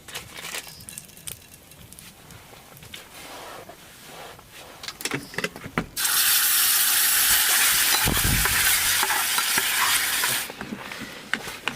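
Food sizzling and frying in a pan over a campfire at a jungle campsite at night, with scattered stirring clatter, then a loud, steady burst of hiss and sizzle for several seconds before it settles back down.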